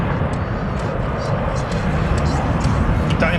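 A Eurofighter Typhoon jet flies at the Leeuwarden airshow in the Netherlands, its loud, broad roar filling the air steadily while a voice comments over it.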